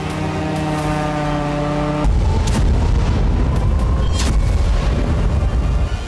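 Ukrainian drones strike the Russian border city of Belgorod. A loud low droning tone gives way to a sudden heavy boom, followed by sustained rumbling blasts with sharp bursts layered over the noise.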